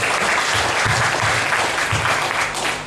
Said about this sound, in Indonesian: Berikan dulu tepuk tangan bagi Tuhan Yesus